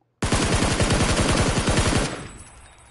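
A rapid automatic burst of about two dozen shots fires from close range in the PUBG video game, loud and evenly spaced. It stops abruptly after two seconds and leaves a fading echo.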